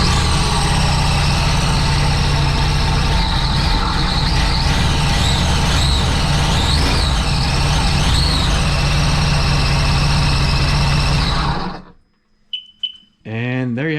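A supercharged Sea-Doo jet ski engine with a bad supercharger runs loud and steady with a whining tone, then cuts off abruptly near the end, followed by brief voices in the quiet.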